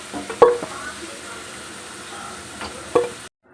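Fried potatoes, cooked for a Kolkata-style chicken biryani, are lifted piece by piece out of hot oil. There is a steady, close sizzle with two sharp metallic clinks from the utensil.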